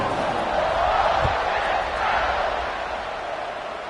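A stadium crowd roars in the NCAA 26 college football video game, a broad, steady wash of cheering that swells and then slowly eases, with a single dull thump partway through.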